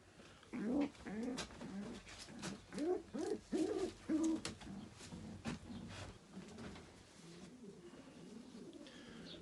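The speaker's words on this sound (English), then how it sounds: "This is a little checker hen, bred by Lindsay, but moved into my shed before the start of the racing" A checker racing pigeon hen coos in a series of low, throaty, rhythmic bursts, close and fairly clear in a quiet indoor setting, tapering off into softer murmurs toward the end.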